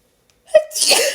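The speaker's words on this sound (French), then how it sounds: "j'ai envie d'éternuer." A single sharp sneeze, close and sudden, with a quick breathy intake before the burst.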